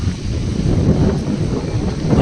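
Wind gusts sweep across an open cricket ground during a Thanjavur tournament match, producing a steady, rumbling buffet on the microphone throughout, with no voices.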